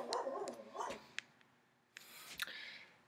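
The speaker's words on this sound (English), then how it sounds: "Okay, I'm really setting this dog off" A dog next door gives a few sharp barks and yips, clustered at the start and again later, moderately distant and separated by quiet gaps.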